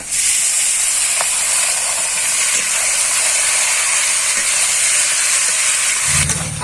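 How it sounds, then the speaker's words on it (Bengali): Spice-marinated duck meat going into a hot kadai gives a loud, continuous steamy hiss and sizzle that holds steady throughout, with a faint low thump near the end. "এই যে মশলা মাখানো মাংসটা এবার আমি এই কড়াইয়ে দিয়ে দেবো"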